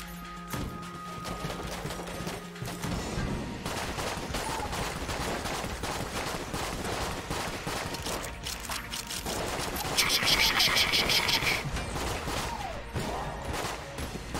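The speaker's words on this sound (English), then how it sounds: "I love breaking the reload sound effect animation. How many times can I reload my gun?" Repeated gun reload and firing effects from the Enter the Gungeon video game, a dense, busy run of clicks, clacks and shots over game music, with a bright burst of metallic clatter near the end.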